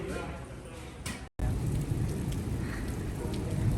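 Heavy rain pours down steadily during an outdoor thunderstorm on the Appalachian Trail in New England, a dense close wash of sound with a brief cut early on.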